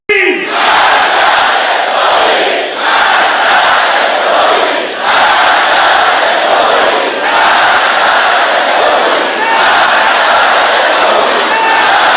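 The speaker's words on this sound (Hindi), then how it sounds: "पूरे ईरान ने डेथ टू अमेरिका और डेथ टू इजराइल के नारे भी लगाए" A large Iranian crowd chants a political slogan in loud rhythmic unison, a massed wall of voices repeating the call steadily for about twelve seconds with slight dips between phrases.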